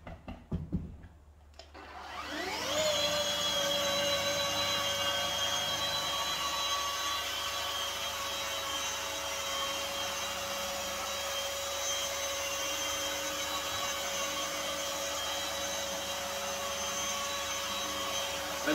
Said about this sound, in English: So I'll just do a little bit of the panel with the finishing with the rotary.